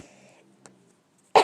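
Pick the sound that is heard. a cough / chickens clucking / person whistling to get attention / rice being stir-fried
a cough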